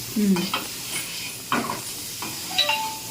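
Potatoes stir-fried in a pan for aloo fry, with a few stirring scrapes and soft sizzling bursts, fairly quiet, and brief faint tones between strokes.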